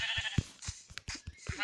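Sheep in a video game let out several short, quiet bleats in quick succession, each one brief and soft.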